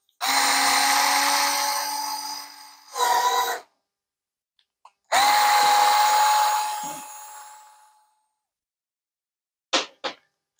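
A Ryobi FVD50K cordless screwdriver whines loudly as it drives a larger screw, in two long runs that slow and fade, separated by a short burst, with a few brief clicks near the end.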